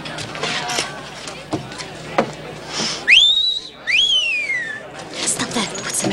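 A man whistles two sharp rising-and-falling wolf-whistle notes in a Western circus setting, loud and close, with crowd noise and voices in the background.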